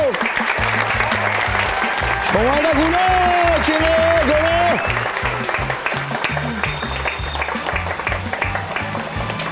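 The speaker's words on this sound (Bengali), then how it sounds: "হাততালি হোক" Steady clapping from a studio audience on a Bengali TV quiz show fills the whole stretch, loud and continuous beneath a host's speech and some background music.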